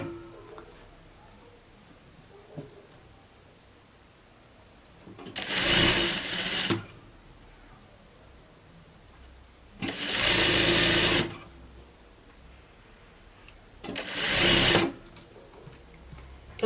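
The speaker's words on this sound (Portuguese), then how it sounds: "Eu tô costurando nessa altura de decote" Sewing machine stitching the neckline of a summer dress in three separate loud bursts of rapid whirring, each a second or two long, with quiet pauses between.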